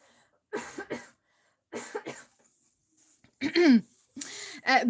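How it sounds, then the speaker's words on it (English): A person coughs in several separate bursts, pairs of harsh coughs with short silences between, ending in a louder, rougher fit. "But another coughing break."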